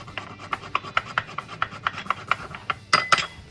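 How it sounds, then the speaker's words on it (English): A woodworking-style rasp grating whole nutmeg over a wide bowl of egg, producing a quick series of dry scraping strokes, close and fairly quiet, with no talking. "I'm just grating my nutmeg over the egg"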